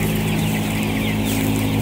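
Chickens cluck steadily and loudly in a barn with ventilator fans, a dense overlapping flock chatter over a constant low hum, with no talking.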